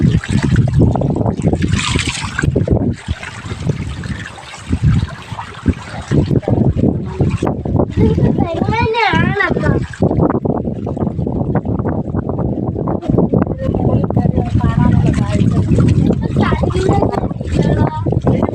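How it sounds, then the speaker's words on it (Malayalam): Hill water streams down the stone steps of the Pathimala Murugan temple at Velanthavalam, a steady rushing wash mixed with wind buffeting and heard under continuous talking throughout. "ഇതൊക്കെ പടിക്കെട്ടിലൂടെ വെള്ളം വീണോണ്ടിരിക്കുകയാണ്"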